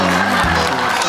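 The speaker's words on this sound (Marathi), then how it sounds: "जोरदार टाळ्या झाल्या पाहिजे यांच्यासाठी" Loud crowd noise from a comedy show audience, cheering and clapping mixed with overlapping voices and shouts, close and continuous.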